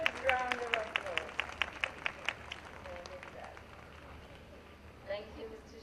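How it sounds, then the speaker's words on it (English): At a school annual day, distinct claps ring out in a loose rhythm over a low crowd murmur, strongest early on and then thinning as a voice speaks near the end. "From your hearts, please give her a huge round of applause."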